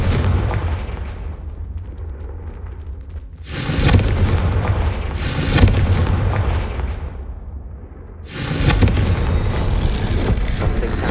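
Confringo fire spell explosions from the video game Hogwarts Legacy: three loud, booming blasts spaced a few seconds apart, each decaying into a rumbling roar over a low continuous background.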